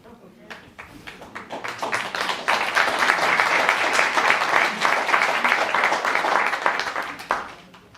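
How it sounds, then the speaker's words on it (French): Audience applause at a live show, many hands clapping that swells from scattered claps into a dense, steady burst for several seconds before tapering off near the end. "je comprends pas pourquoi vous applaudissez au moment où on dit vous finissez sur 4"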